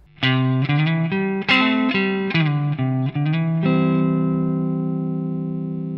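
A slow country-style electric guitar lick with twangy picked notes and short double stops, a few plucks in sequence, then a held chord ringing out and fading.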